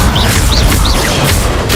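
A fire spell cast in the Hogwarts Legacy video game, a dense roaring burst with whooshing sweeps, steady and loud throughout.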